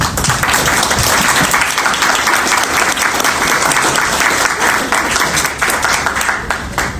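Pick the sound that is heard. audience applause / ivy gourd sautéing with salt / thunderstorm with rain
audience applause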